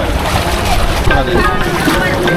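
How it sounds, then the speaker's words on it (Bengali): A motor trawler boat on Rangamati lake drones loudly and steadily nearby, with water wash around the hull, while a person talks over it. "এটা হচ্ছে ট্রলার।"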